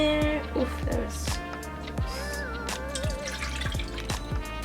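Warm water splashes into a mixing bowl to activate yeast for vegan cinnamon roll dough in a home kitchen. Close, brief splashes and drips are followed by a faint trickle, with a voice audible nearby.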